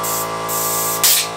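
Compressed air blasts through the passages of a Jiffy 30 ice auger's 3.0 hp carburetor as a steady close hiss, then a louder, harsher burst near the end, with no talk.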